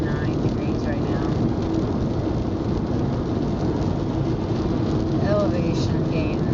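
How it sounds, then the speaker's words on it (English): Heavy, drenching rain roars steadily against an electric car on a road trip to San Francisco, a dense constant wash of noise with a faint rumble beneath and speech mixed in. "drenching rain"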